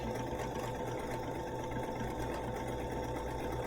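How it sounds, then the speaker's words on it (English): Bernina sewing machine running stitch 135 on a repeat setting: a steady, fast mechanical whir and hum with rapid needle ticking, continuous and alone throughout. "we're going to stitch 135, sew a repeat"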